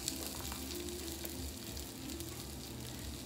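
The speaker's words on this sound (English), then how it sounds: "my oil is hot. We're gonna just drop them right in" Black bean vegan burger patties are dropped into hot oil in a skillet and set up a steady, moderately quiet sizzle and crackle that continues evenly without talk.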